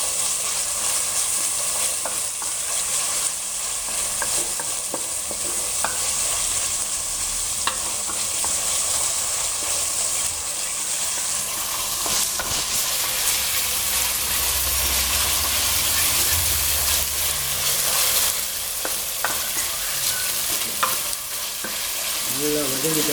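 Masala for mutton masala, a Malaysian dish, sizzles loudly in a hot pan as it is sautéed, with steady frying hiss and repeated scraping stirs of a spoon across the pan, close and continuous.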